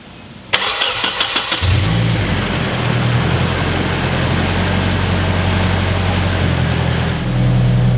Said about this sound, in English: With it back in place, we can go ahead, turn on the car, and we can see if there's any difference with the motor.